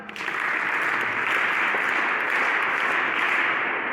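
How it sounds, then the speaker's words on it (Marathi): Dense, steady audience applause at a Sunday community gathering in Shirasgaon, Nashik, a broad wash of many hands clapping that starts abruptly and holds at full strength for the whole stretch, close and loud, with no voices. "पुन्हा एकदा टाळ्या वाजवा"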